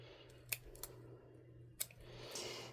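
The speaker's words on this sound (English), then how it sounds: "now we're gonna snip it even with that" Scissors snip a craft yarn pom-pom, trimming the strands even; three crisp close cuts at irregular intervals stand out over a steady low hum, with no talking.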